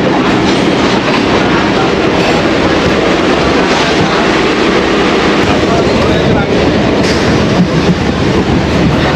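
Sealdah local train running on rails, a loud, continuous rumble with rhythmic wheel clatter heard from on board and holding steady the whole time.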